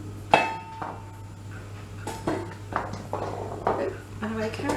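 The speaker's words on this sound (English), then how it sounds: "Let's chop those up." A knife chops carrots on a cutting board in a home kitchen, with a series of sharp, irregular knocks close by and a voice talking in the background.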